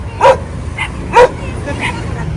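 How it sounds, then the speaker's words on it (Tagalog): Several dogs bark outdoors in a series of sharp yips and woofs, two loud and close and others fainter, with steady background noise between them. "Ang dami mong aso."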